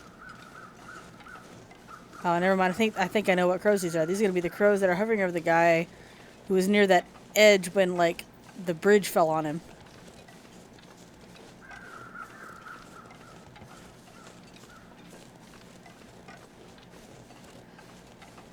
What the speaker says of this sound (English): I think I know what crows these are.